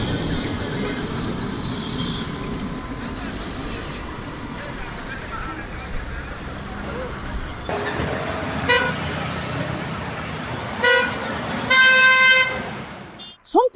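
Busy, crowded city street traffic with a steady roar of engines and vehicles, car horns tooting sharply and repeatedly toward the end, voices faintly mixed in.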